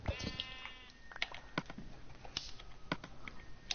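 Sheep in the Minecraft video game bleat in a couple of short wavering cries near the start, followed by scattered clicks and taps from play that run on until the end.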